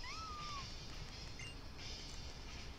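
A small cat Pokémon in the video game Pokémon Sun & Moon gives a short, faint, rising cry at the start, set against steady game background sound.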